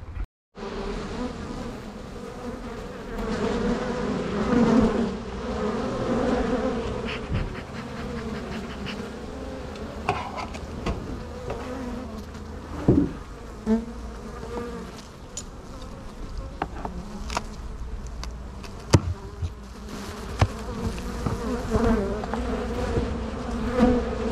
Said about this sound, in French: c'est une ruche et une ruchette hein, où il y a un essaim que j'ai récupéré il y a une quinzaine de jours